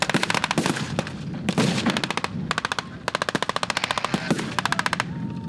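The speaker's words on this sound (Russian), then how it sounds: "огонь пулемета выкашивает минимум треть нападающих" Loud machine gun fire at a WWII Stalingrad battle reenactment, rapid bursts in several long strings of shots rattling close by with brief pauses between them.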